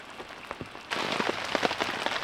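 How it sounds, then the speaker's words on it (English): Heavy rain drumming on a large Naturehike hot tent at a campsite: soft patter that abruptly swells into a dense, close, steady pelting with scattered louder drops. "a lot of rain, a lot of water"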